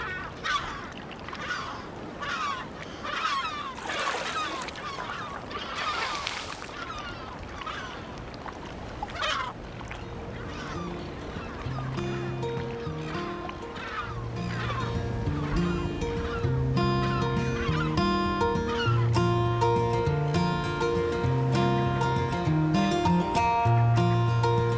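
A colony of African penguins honks and brays in repeated braying calls, loud and near, overlapping over a steady background, with music gradually rising underneath.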